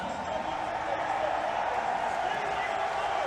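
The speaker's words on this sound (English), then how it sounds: "if you hear all that cheering in the background, people are getting hyped for Dragon Ball." A large crowd at an Evo fighting-game tournament cheers and roars for Dragon Ball in a steady, dense wall of noise that stays level for the whole stretch, with no single voice standing out.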